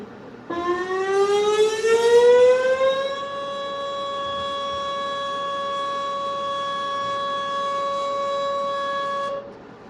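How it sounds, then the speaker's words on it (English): A tornado siren sounds during its weekly Saturday noon test, winding up in pitch over about three seconds and then holding a loud, steady wail, heard from a distance with no voices. "every Saturday at noon, you're gonna hear the tornado siren"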